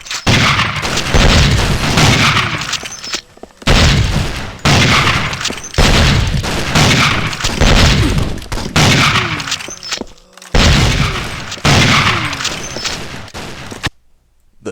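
Loud bursts of rapid gunfire from the video game Nightfire come in repeated sustained volleys, each a second or two long, separated by short pauses.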